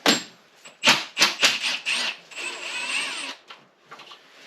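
A power tool spins bolts off the 10mm intake manifold of a 2015 Mini Cooper D F55 diesel. It gives several short, loud whirring bursts, then one longer sustained whine that tapers off, with no talk.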